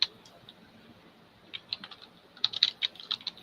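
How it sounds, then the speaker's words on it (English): Computer keyboard typing during an online call, sparse clicks at first, then a denser, louder run of keystrokes near the microphone. "I still hear someone clicking"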